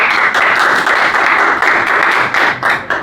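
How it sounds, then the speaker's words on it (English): Audience gives a round of applause at a tech talk on functional programming and smart contracts, dense steady clapping filling the whole stretch, loud and close, with no talking over it. "Round of applause for Æternity."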